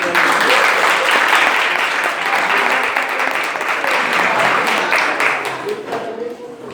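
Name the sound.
congregation applauding at church service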